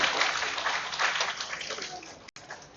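A conference audience applauds, producing a dense, hissing wash of many hands clapping that slowly fades over a few seconds and ends with a brief dropout.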